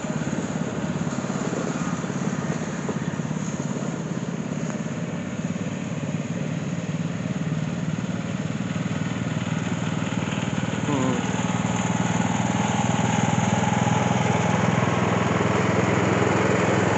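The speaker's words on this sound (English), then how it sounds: "It's a big tractor." A big tractor engine idles steadily at a gas and steam engine show, a continuous even chugging drone heard close and unchanging for the whole stretch.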